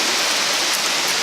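Steady rain pours down outdoors, a dense even hiss of drops on surfaces with no gaps, close and fairly loud throughout, with no other sounds.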